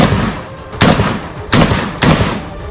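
Several sharp, loud gunshots ring out in quick, irregular succession during fighting between the Israeli army and Hamas, each a hard crack followed by a short echo.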